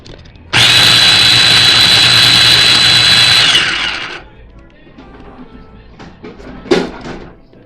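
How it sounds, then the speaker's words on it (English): An electric food chopper whirs loudly for about three seconds as it chops onions and tomatoes for salsa, a steady high motor whine that stops abruptly, followed by quiet handling clatter. "what I'm going to do next is put it in our chopper"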